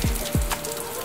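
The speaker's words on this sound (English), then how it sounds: "watched the rain falling down next to the fire" Rain falls at a lodge in Madikwe Game Reserve, a soft wash of drops with a couple of low thuds early on, close and brief.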